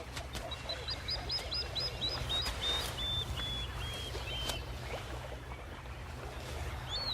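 A plover, feisty near a monitor lizard, gives a run of sharp high chirping calls, mostly in the first half, over a steady low rumble of background noise.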